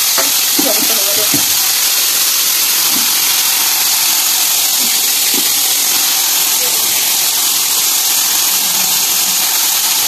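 Potatoes frying in a pan give a steady, loud broadband sizzle and hiss that fills the whole stretch, with a few soft clinks of stirring and a voice talking faintly underneath.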